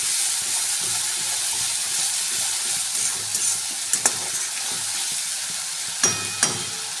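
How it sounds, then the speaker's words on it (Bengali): Ground cumin, ground coriander and sugar sizzle steadily in a hot pan with oil for a Bengali jackfruit and prawn dish, a continuous frying hiss broken by a few soft spatula scrapes and clinks near the end. "এটা ভালো করে কষিয়ে নেব।"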